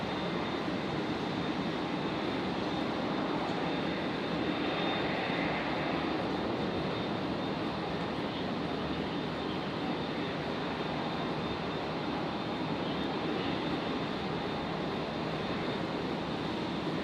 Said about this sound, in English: Qantas Link 422 arriving in from Newcastle